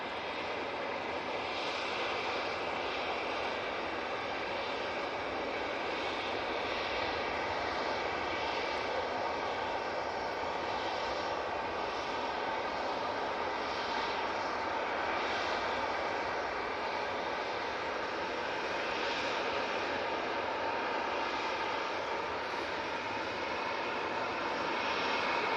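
An airliner landing at Manchester Airport, its broad engine roar steady and loud throughout, with no voices.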